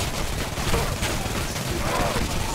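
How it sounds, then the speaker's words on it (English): SMG fire in Shadow Warrior 2 forms a dense, continuous rattle of rapid shots mixed with game noise, steady and moderately loud throughout with no clear pauses. "These SMGs are actually not bad"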